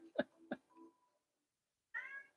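A house cat gives two short meows, then a higher, drawn-out meow a moment later, close and fairly quiet in an otherwise still room.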